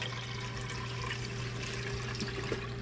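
Kudzu flower liquid is poured through a jelly strainer, a steady close splashing trickle with a constant hum underneath and no talking.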